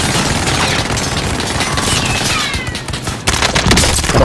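Gunfire in a video game rattles out in dense, loud, continuous bursts, like a sustained firefight with overlapping shots that swell again near the end.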